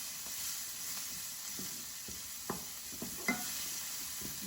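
Ground beef cooking in oil over medium heat, a soft steady sizzle with a few light scrapes and stirs from a utensil in the pan, fairly quiet and close.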